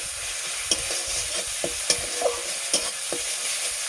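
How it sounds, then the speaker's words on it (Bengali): Garlic paste frying with browned onions in a pan, a soft continuous sizzle broken by sharp scraping stirs at irregular intervals, close and alone without talk. "রসুন বাটাটাও ভালোভাবে ভাজতে হবে।"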